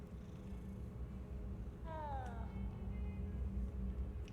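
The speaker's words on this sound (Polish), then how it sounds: "To był kot?" A cat in Hogwarts Legacy makes a brief rising, wavering meow-like call partway through, heard against a steady low game background hum.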